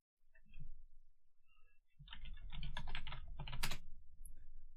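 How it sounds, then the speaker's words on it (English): Computer keyboard typing at a PC esports tournament broadcast, a short tap followed by a brief lull, then a denser run of rapid key clicks, close and moderately loud. "if you can hear the sound of me typing"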